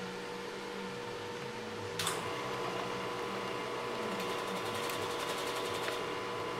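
A wood lathe turns a table leg with a steady, close mechanical hum. A sharp scrape enters midway, and a rapid fluttering chatter comes in and out as the tool bites the spinning wood.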